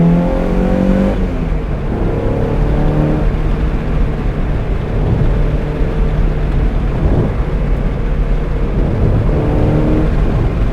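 A 1995 Mazda MX-5 NA accelerating with the windows down, the engine note rising in pitch through the revs under loud cabin wind and road noise, close and continuous.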